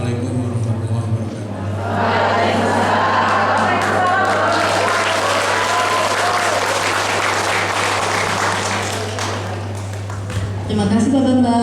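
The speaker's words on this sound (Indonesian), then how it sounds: "Tepuk tangan sekali lagi buat Pak Bambang." An audience at a national women's jamboree in Trawas, Mojokerto, breaks into loud, sustained applause for Pak Bambang, dense clapping swelling after a brief pause and running about nine seconds before a voice returns.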